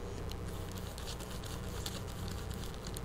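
Close, scratchy rubbing noise of a surface prep mitt on rough car paint, a steady rough patter of friction continuing without pause throughout.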